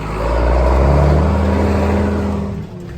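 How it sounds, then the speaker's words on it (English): A loud, close Fendt tractor engine rumbles and revs with a deep, throaty tone, holding steady before easing off at the end. "Awesome sounding tractor."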